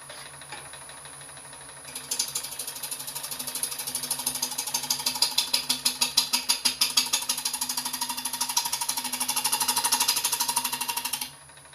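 A wood lathe spins a box elder bowl at about 700 RPM while a tool takes light cuts. A steady motor hum carries a fast, rhythmic chatter of cutting that starts abruptly and stops cleanly, loud and close.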